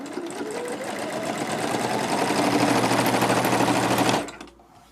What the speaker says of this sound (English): Sewing on the Ambition 610 is really easy. I've selected a straight stitch.